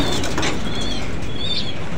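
Racing pigeons kept in a loft give soft coos and rustling wing flaps over a steady background noise, with no speech.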